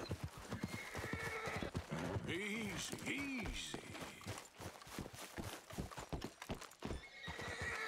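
A horse in the Red Dead Redemption 2 video game neighs loudly with a rising and falling whinny, with hoofbeats clopping around it and people talking over the game sounds.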